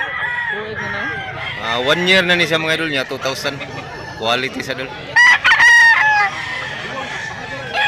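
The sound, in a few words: gamecock rooster crowing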